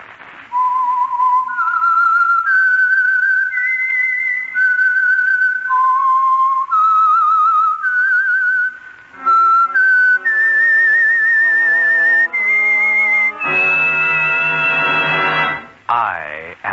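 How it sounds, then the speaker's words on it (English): A lone whistler plays the eerie theme of the Signal Oil radio program The Whistler, a slow clear melody in stepped notes. Orchestral instruments join partway through and swell toward the end. "the signal to listen for is this whistle that identifies the Signal Oil program"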